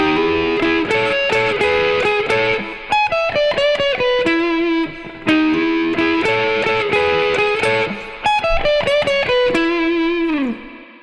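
Distorted electric guitar playing a blues lick, phrased notes and bends repeated three times, loud and close, with a final sustained note fading out and no talking.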